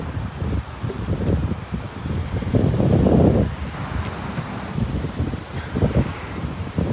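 Wind rumbles and buffets against the microphone on a beach walk at Surfers Paradise on the Gold Coast, Australia, a continuous low roar that swells louder for a few seconds midway, with no talk.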